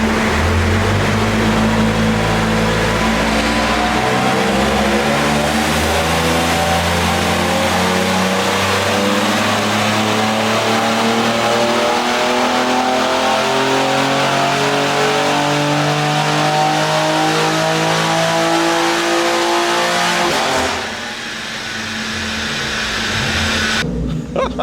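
A tuned BMW G80 M3 with the S58 engine, making 789 brake horsepower, accelerates hard in a loud, sustained roar with rising revs through the gears, then cuts off abruptly near the end.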